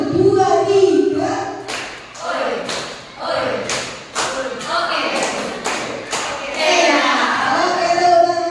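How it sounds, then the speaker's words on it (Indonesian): A class of children clapping in a counted rhythm, several sharp clap bursts spaced between spoken counting and chanting, close and loud, with voices throughout. "Ditutup dengan tepuk."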